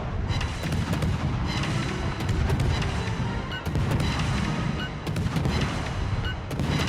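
Naval gunfire in a warship video game: a continuous barrage of booming shell shots and impacts over a low rumble, dense and loud throughout with repeated sharp blasts.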